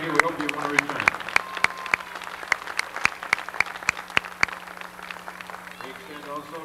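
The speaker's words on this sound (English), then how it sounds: "We extend also a round of applause for the Dr. Gerald Albright, who's been with" Scattered claps ring out in a hall at an amateur boxing match, a sparse run of distinct, fairly loud handclaps with a low hum underneath and a few other sounds early on.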